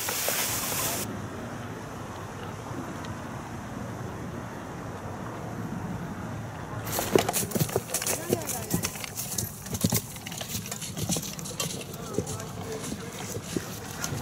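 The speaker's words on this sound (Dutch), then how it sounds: "Containertransport voortgetrokken door paarden." Draft horses towing a container barge along the Wilhelminakanaal in Brabant, with hooves clip-clopping on the towpath as a steady walking rhythm under wind noise, growing more distinct after the opening stretch.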